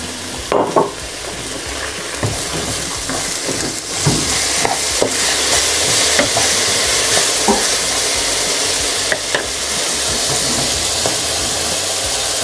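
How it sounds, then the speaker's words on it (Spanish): Carrot and onion hitting a hot pan with beef juices, a loud continuous sizzle and hiss with repeated spatula scrapes and taps as the vegetables are stirred. "En la misma sartén y con todo el jugo que ha soltado la carne, echamos la zanahoria"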